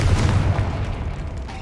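A Confringo spell explosion in the Hogwarts Legacy video game, a heavy, loud low boom that rumbles and fades out over a second or so.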